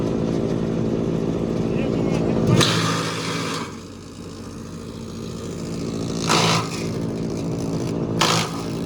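An MTZ tractor drives an Arpal MK-120 TP wood chipper, a steady loud engine drone with harmonic hum, broken by bursts of crunching and rushing as wood is fed through, with people talking nearby.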